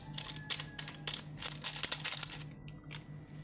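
A small packet of yeast is crinkled and torn open in a home kitchen, producing sharp plastic rustles and crackles in short bursts, close and fairly loud, with a low background hum.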